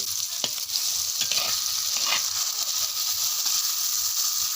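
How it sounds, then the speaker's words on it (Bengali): Chopped tomato and chicken sizzle in a clay wok, a steady close hiss of frying broken by a few sharp scraping strokes as the mixture is stirred. "এবার দিয়ে দেবো টমেটো কুচি দিয়ে ভালোকে কষিয়ে নেব"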